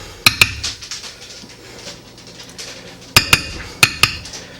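A utensil scrapes and knocks against a baking dish of cheesy chicken and broccoli bake, giving a few sharp, close clinks in two bursts over a low, quiet background.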